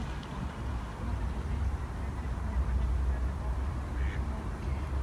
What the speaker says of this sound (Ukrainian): Там парочка качок.